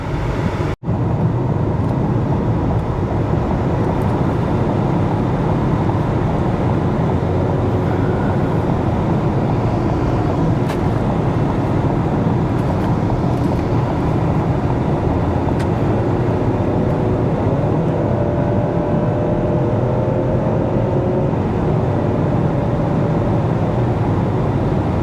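Ford Escape on a test drive after a front wheel bearing replacement, heard from inside the cabin as a loud, steady rumble of engine and road noise that runs unbroken, with no talking.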